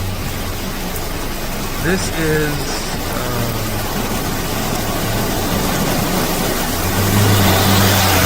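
A car engine drones as the vehicle pushes through a muddy, flooded, almost impassable road in Jamaica during rainy weather, a steady mid-distance rumble that swells briefly, with faint voices in the background.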